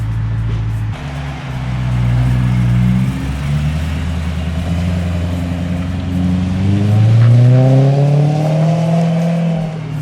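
A straight-piped Ferrari 348 revving on Miami streets, loud and close, with rising and falling engine pitch through repeated throttle blips and a long climbing rev near the end.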